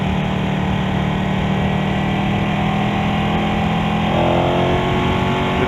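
A Ducati Panigale 1299 motorcycle engine pulls under acceleration with a steady, loud mechanical drone, its tone rising slightly near the end, with no talking over it.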